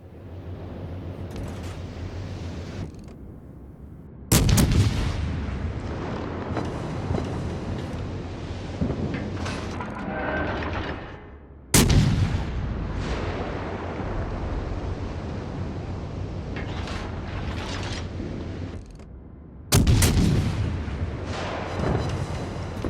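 Naval gunfire in World of Warships: Legends, heavy cannon salvos booming out in three big blasts spaced several seconds apart, each trailing off into rumbling, splashing battle noise with constant wind-like roar between.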